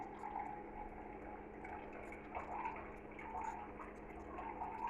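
Water trickles and pours into a mixture while tomato puree is made from cheap tomatoes, a faint, steady liquid fill with soft splashy rises over low background hum.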